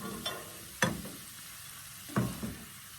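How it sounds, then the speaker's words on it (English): Bacon frying in a pan with stirring, a steady background sizzle broken by three sharp clattering scrapes of a utensil against the pan, spaced irregularly and close up. "go ahead and add your bacon back in."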